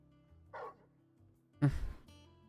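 A dog in Final Fantasy XVI gives two short barks, the first a lighter yip and the second a louder, fuller bark, heard close over a low steady game background.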